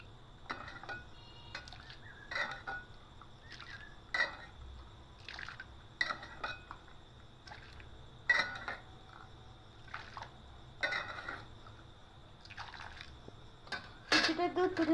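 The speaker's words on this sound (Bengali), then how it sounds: "তাই এখান থেকে আমি কিছুটা দুধ তুলে নেব।" Hot milk is scooped from a pot on the stove while rice pudding is being made. Soft liquid sloshes and drips come with faint clinks of a ladle against the metal, all low and close.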